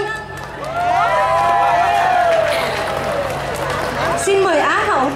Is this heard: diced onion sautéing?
no